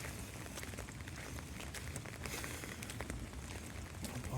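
Steady rain pattering on the ground during a walk with a dog outdoors, a dense continuous hiss with scattered drop ticks throughout, close and even in level.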